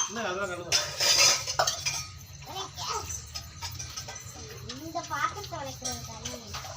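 Dishes and pots clank and scrape as they are washed outdoors, with cutlery clinking, while people, including a child, talk nearby.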